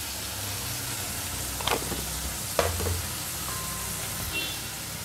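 Spice paste of onion, ginger and tomato fries in a pan with a steady, even sizzling hiss, broken by two brief stirring scrapes.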